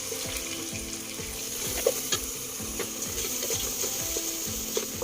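Onions and mint fry in hot oil for a country chicken white biryani, a steady close sizzle with faint crackles and occasional stirring clinks.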